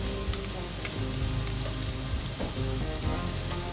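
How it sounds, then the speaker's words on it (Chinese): Pork belly sizzles and spits steadily in a hot dry wok over high flame, a dense continuous frying crackle with occasional sharper pops, close and fairly loud with no talking. "开大火慢慢煎炒"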